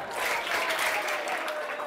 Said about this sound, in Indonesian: Tiga tepukan.